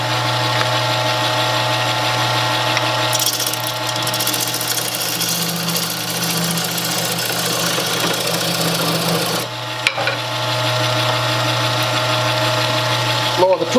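A wood lathe spins while a tool carves out the inside of a turned wooden bowl, giving a steady, close motor hum with continuous scraping and cutting noise and a brief dip near the end.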